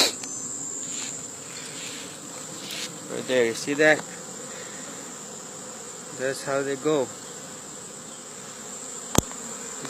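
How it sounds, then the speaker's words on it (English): Bees swarming in and around a Kenyan top bar beehive, a steady insect buzz and hum throughout with a sharp tick near the end, while someone speaks briefly twice over it. "Now they have multiplied into a lot of bees."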